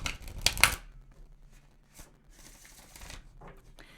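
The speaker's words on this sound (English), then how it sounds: "I am going to start shuffling" A deck of cards shuffled for a card reading: a loud, close riffle burst near the start, then softer intermittent rustling and card flicks.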